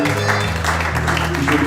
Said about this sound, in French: l'église acclame fortement le Seigneur